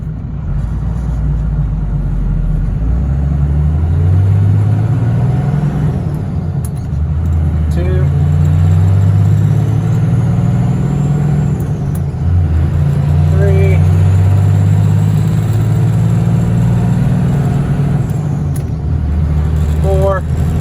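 A truck engine rumbles along a road, rising and falling through gear changes before easing off as it slows for a red light, heard from inside the cab with someone talking over it.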